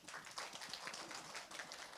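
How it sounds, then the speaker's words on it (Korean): An audience at a food and drug safety forum applauding, a brief dense patter of many hands clapping, fairly quiet and heard alone. "여러분 큰 박수 맞이해 주십시오."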